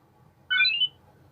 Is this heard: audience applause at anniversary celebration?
no